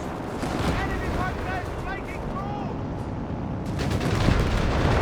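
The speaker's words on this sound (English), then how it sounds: "Panzer's being bombarded by the Greyhound." Gunfire and explosions from a Greyhound armored car bombarding a Panzer in Company of Heroes 3, a dense continuous battle din with a commentator talking over it.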